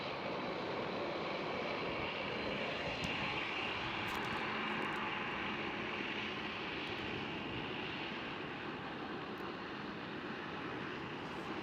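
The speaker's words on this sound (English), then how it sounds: "Transavia having to wait for the KLM 787, but luckily for them, KLM is just started the taxi ride." A KLM Boeing 787 airliner taxis at Schiphol airport, its engines giving a steady, broad rumble and whine that holds evenly throughout with no voices.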